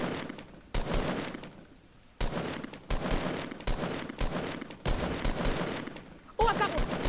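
Rapid bursts of automatic gunfire in a video game, several loud volleys with short gaps between them, with voices talking over the shooting.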